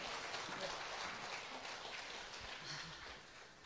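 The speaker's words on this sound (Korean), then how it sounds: "박수로 환영해 주십시오." Faint, distant audience applause welcoming a performer at a church praise concert, a soft continuous patter that thins slightly near the end.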